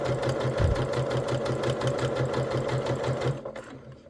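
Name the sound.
sewing machine stitching a quilt block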